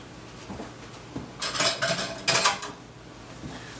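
A mixing bowl and utensils are set into a kitchen sink, giving a few close clinks and clatters of dishes and cutlery in two short bursts amid quiet room tone.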